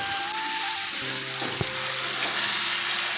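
Yogurt masala sizzles and fries in hot oil in a pan, a steady broadband crackle with a few sharper pops and stirring scrapes, close and continuous with no talk.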